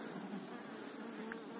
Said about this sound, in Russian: Рой здесь буквально сегодня или вчера привился.